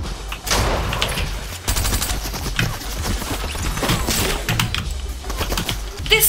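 Rapid bursts of video game gunfire from Fortnite fill the whole stretch, loud and dense with repeated shots layered over a busy in-game soundscape, no speech.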